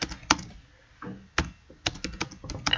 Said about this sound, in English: And from what I'm typing